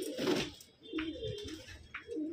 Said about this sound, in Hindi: ये कबूतर पकड़ा भाई हमने अपना लाल